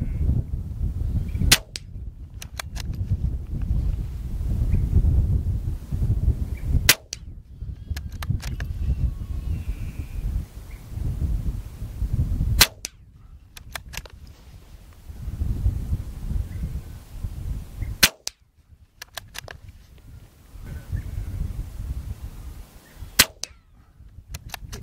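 Tikka T1X .22LR rifle fitted with an Atlas bipod and Nightforce NSX scope, firing about five sharp, isolated shots spaced several seconds apart, each crack standing out against steady outdoor background noise.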